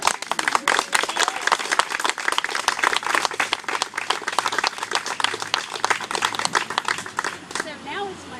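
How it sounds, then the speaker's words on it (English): Audience applause at a local political endorsement event with elected officials, a dense, steady burst of many hands clapping for about seven seconds before fading as a voice begins. "How about another round of applause?"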